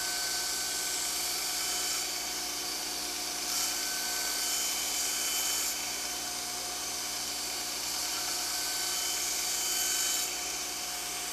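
A knife blade ground on an 8-inch grinding wheel in a steady, continuous high-pitched whine and hiss with no breaks, held close and loud throughout, no talking.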